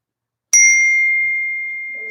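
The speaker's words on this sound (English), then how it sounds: "I need to turn notifications off" A single bright computer notification chime rings out during an online meeting, striking sharply then leaving a clear, steady tone that fades slowly over about a second and a half, with no talk over it.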